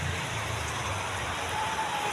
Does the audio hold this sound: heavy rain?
yes